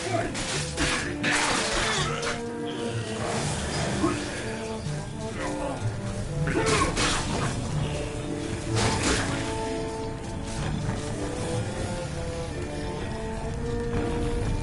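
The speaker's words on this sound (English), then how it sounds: "Some obstructions can be smashed down with clubs and certain other weapons" Obstructions are smashed with a club in MediEvil, giving several loud shattering crashes, one near the start and others around the middle, over game music.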